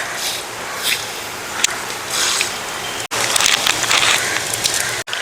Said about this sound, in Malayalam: നമ്മുടെ കടുക് പൊട്ടി